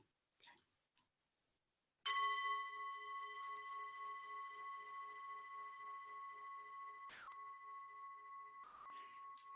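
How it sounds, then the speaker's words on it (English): A meditation bell is struck once by an assistant, ringing out loud and clear before a long, steady, sustained tone slowly fades, with a faint second tap near the end. "My beautiful assistant will ring the bell"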